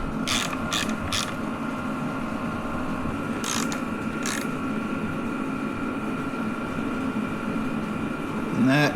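Ratchet on a long extension working a bolt on a dirt bike's protective armor, with a few quick clicking bursts near the start and middle over a steady background hum.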